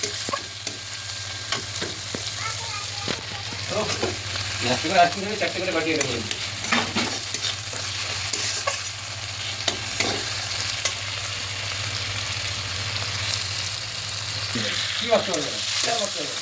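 Spice paste for egg curry sizzling continuously in hot oil while a spoon stirs and scrapes through it, close up, with a steady frying hiss throughout and no speech.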